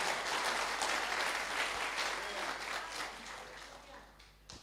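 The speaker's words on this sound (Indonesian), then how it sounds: "Ayo beri tepuk tangan yang meriah." Congregation applauding during a Sunday worship service at GBI Altar Filadelfia church in Jakarta, a steady broadband clapping that fills the room and tapers off near the end, with some talk mixed in.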